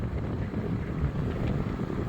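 Steady, rough wind buffeting the microphone while riding an ASKMY U15 MAX electric scooter into a headwind, a low rumbling roar that persists throughout with no voices.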